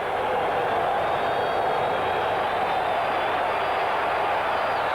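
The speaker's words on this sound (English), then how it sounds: "Listen to the crowd." A football stadium crowd roars in a steady, broad wash of noise during a 1982 Raiders at Falcons game, continuous and loud throughout with no breaks.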